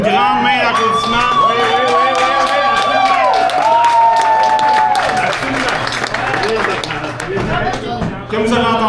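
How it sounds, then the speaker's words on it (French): Wedding reception guests applaud and clap loudly, a dense close crowd of claps that continues through the clip alongside voices and cheering. "Une grande main d'applaudissement"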